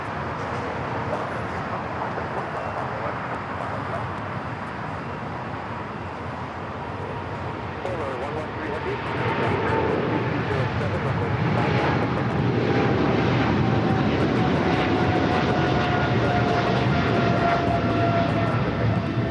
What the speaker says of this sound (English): 777 freighter rolling on 25 right.